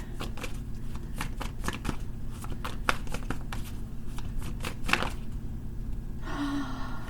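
Tarot cards being shuffled in repeated crisp riffling bursts, close and fairly steady throughout, with a brief softer rustle near the end and no talking.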